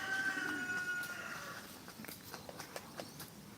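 Pigeons coo in a soft, low warble near the start, followed by scattered sharp taps and rustles at a moderate distance with no talking.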